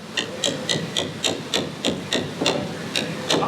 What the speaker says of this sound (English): then just come back here with your chisel and gently take this excess out